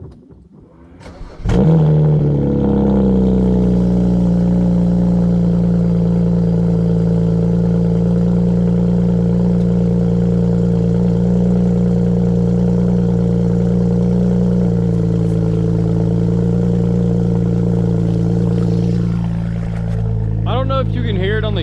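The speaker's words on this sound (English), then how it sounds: "I think there's a little wastegate rattle going on" BMW 335i engine on stock turbos at high mileage, starting up and then holding a loud, steady drone for most of the clip, with a faint rattle suspected from the wastegate before it drops off and a voice begins.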